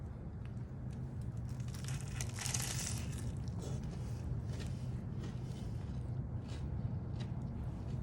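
Crunchy bites into a crispy fried chicken sandwich, a burst of crackling crunch followed by continued chewing crackle, close and fairly quiet with no talk.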